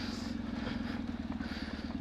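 A motorcycle engine throbs steadily at low revs in first gear, engine braking on an off-road downhill trail, a rhythmic pulsing drone, close and continuous.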